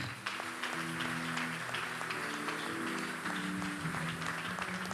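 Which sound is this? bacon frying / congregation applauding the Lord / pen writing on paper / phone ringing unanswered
congregation applauding the Lord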